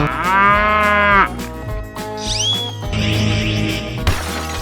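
A cartoon cow in a 3D animal slide video game gives a loud, sustained moo. It sits over busy game music and sound effects, with a swooping tone and later clatter.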